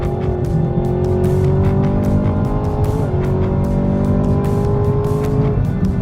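A 2020 Ford Mustang Shelby GT500 with an automatic transmission braking hard from over 140 mph after a drag run, its loud engine droning and winding down steadily, close and unbroken, with faint tire noise.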